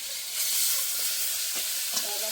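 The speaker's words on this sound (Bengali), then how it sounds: "এবারে ভাজছে শোল মাছগুলো" Snakehead fish fry in a pan of oil with a steady, close hiss of sizzling, broken by a few soft scrapes and knocks of stirring.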